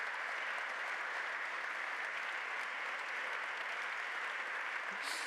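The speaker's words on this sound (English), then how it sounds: "Please, a huge round of applause to my fantastic panelists." Conference audience gives a round of applause to panelists after an opening panel, a dense, even wash of clapping heard at moderate distance and holding steady throughout.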